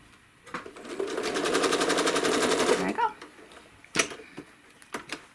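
A home sewing machine stitches a quilt block guided by a ruler, giving a steady rapid run of needle strokes for about two seconds that then stops, followed by a few sharp clicks and knocks nearby.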